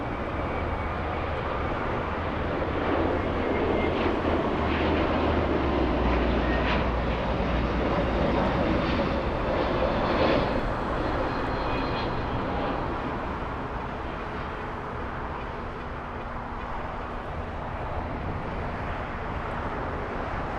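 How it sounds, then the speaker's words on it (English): Hawaiian Airlines A321 taking off from LAX bound for Kona, a loud, steady jet engine roar that holds for the whole stretch, rumbling with no voices. "Hawaiian 61, taking off 15 minutes late."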